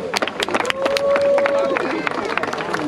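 Friends applaud at a visit to a farm with a red car: scattered sharp hand claps mixed with cheering voices and a sustained whistle or vocal tone, lively and close.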